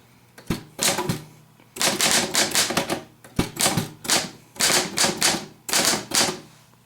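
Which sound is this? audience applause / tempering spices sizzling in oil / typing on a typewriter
typing on a typewriter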